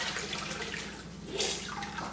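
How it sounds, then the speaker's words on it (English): A grout sponge is rinsed and squeezed in a bucket of water while tiling a glossy-tile backsplash, giving a steady close sloshing and trickling with a brief splashier burst midway. "Then you clean out your sponge,"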